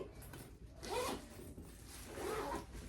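A bag zipper is pulled twice, each a quick rasping zip on a leather handbag, close and fairly quiet with no talking.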